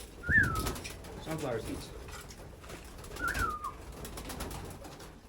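Racing pigeons in a loft coo twice in soft throaty bursts, close by, while someone talks over them.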